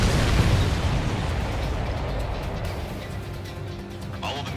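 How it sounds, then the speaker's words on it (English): Missiles being shot down in the combat flight video game Ace Combat 7 produce a loud, deep rumbling explosion that starts at full force and slowly fades into a lingering roar. "All of the missiles have been destroyed."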